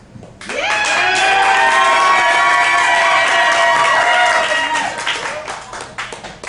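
Studio audience shouting, screaming and applauding to vote for a contestant in a game of guessing the real Herminda, a loud sustained burst of cheering voices over clapping that swells quickly and tapers off near the end.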